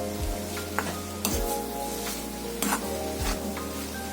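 Tender jackfruit bhaji with fresh coriander stirred and mixed in a hot pan, a continuous close sizzle broken by several louder scraping strokes of the spoon against the metal.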